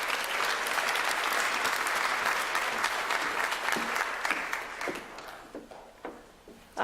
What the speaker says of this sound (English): A round of applause for our students who serve.